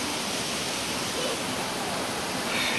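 Rushing water from a waterfall forming a natural water slide on the Cedar Run trail, a steady broadband roar close by, continuous and loud with no other sounds standing out.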